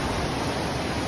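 A river on Dartmoor, downstream of Venford Falls, rushes in a dense, even roar of flowing water, close and constant throughout the brief stretch with no voices.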